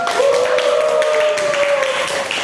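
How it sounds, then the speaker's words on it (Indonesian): Applause from a high school class (SMA 15) after a lesson, a busy spread of clapping running the whole time with a sustained tone and faint background voices. "Tepuk tangan ya untuk semuanya."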